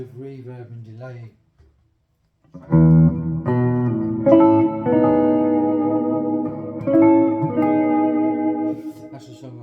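Clean electric guitar played through a Kemper Stage with heavy reverb and delay, sustained chords ringing and trailing off in washy echoes after a short pause, loud and alone.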